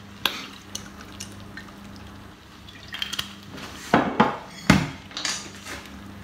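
A utensil stirs eggplant with a drizzle of olive oil in a pot or bowl, giving scattered light clinks and scrapes against the vessel, sparse at first and then several sharper knocks toward the end.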